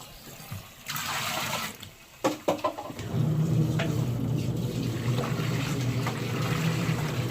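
Hand-rinsing laundry in water: a few sloshing splashes and brief knocks, then a steady, fairly loud rush of running, churning water that continues to the end.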